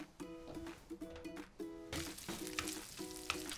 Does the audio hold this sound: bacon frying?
yes